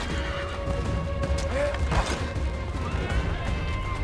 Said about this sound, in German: Oh, Pferd.